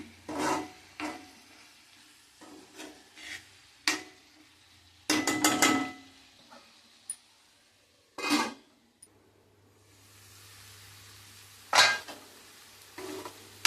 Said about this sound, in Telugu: ఒకసారి కలుపుకుందామండి కలుపుకొని కాసేపు మూత పెట్టుకుని ఉడికిద్దాం